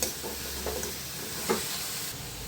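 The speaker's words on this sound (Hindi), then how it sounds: "बीच बीच में इसे चलाते रहेंगे, उलटते पलटते रहेंगे" Grated bottle gourd roasts in a pan with a soft steady sizzle and hiss, broken by a couple of brief stirring scrapes. Close and fairly quiet, with no talk.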